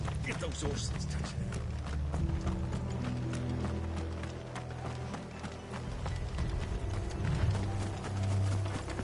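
Horses gallop in Final Fantasy XVI, a steady drumming of hooves with rattling tack and mechanical clatter running continuously under a busy game soundscape, while voices talk over it.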